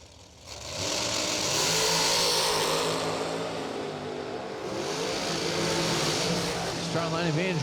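Chassis dragsters, including a 17 American chassis dragster and a 2019 Elite chassis dragster, race down a drag strip with a loud, sustained engine roar whose pitch swells and shifts, with a voice speaking underneath.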